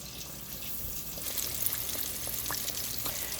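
Salmon deep frying in hot oil, a steady dense sizzle and bubbling crackle held close and even throughout, with a few brighter pops near the end.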